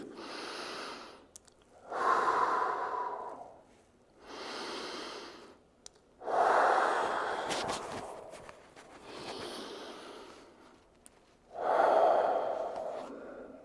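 Slow, deep breaths taken during a shoulder stretch, alternating audible inhales and exhales close to the microphone, each lasting a couple of seconds with short pauses between.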